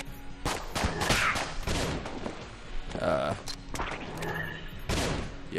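Rapid gunfire from the twin-stick shooter game Enter the Gungeon, with bursts of shots and impacts over game effects, while a player talks excitedly throughout.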